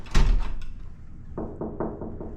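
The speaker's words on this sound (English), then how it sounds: "Finally made it through the door." A hotel room door at the Grand Californian Hotel opening, with a loud clack and rattle of the latch followed by a short run of softer knocking thuds as the door swings and settles nearby.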